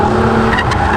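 A Mercedes-AMG E43 with a twin-turbo V6 sliding through a corner, its tires scrubbing and squealing under loud engine noise in a brief, close burst.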